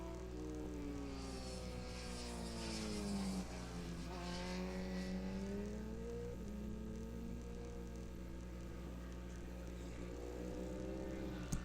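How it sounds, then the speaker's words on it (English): Two motorcycles with Harley-Davidson engines, a bagger and a Buell, race on a track, their faint distant engines droning and sweeping up and down in pitch as they work through the corners. "Jeremy Friedman out there on his bagger with Brian Wamick chasing him on a Buell"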